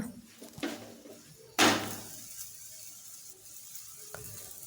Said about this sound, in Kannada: ನೋಡ್ಬೋದ್ರಿ ಎಷ್ಟು ಚಲೋ ಸುಡಾಕತ್ತವಂತ ಮಸ್ತಾಗಿ ಸುಡಾಕತ್ತಾವ ನೋಡ್ರಿ